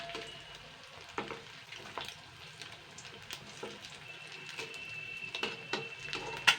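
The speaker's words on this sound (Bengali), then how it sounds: "ঠিক ডিমের যেরকম চপ বানাই ঠিক এরকম করে করতে হবে কড়া করে ভেজে নিতে হবে" Egg chops deep-frying in hot oil give off a steady, close sizzle with scattered crackles and small pops throughout, and no voices are heard.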